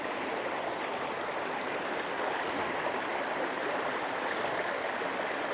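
A shallow river in Wales flows over small stones in a steady, soft, continuous babble, close by and with no voices over it.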